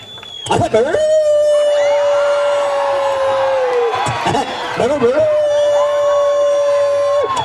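A voice on stage at a college annual day imitates a frightened dog howling, giving two long, loud, wavering howls through a sound system with a lively hall behind.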